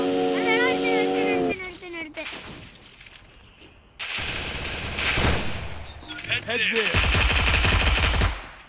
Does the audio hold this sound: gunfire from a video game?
yes